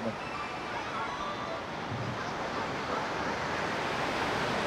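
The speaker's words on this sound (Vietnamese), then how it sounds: "biển là gió tạo nên những con sóng đi vào trong bãi cát" Sea waves wash steadily onto a sandy beach under a constant wind, a broad, unbroken roar of surf and gusting air that holds at an even level throughout.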